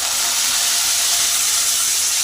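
Raw shrimp sizzle in hot oil in a kadai, a steady, loud broadband hiss of frying that holds constant throughout with no talk.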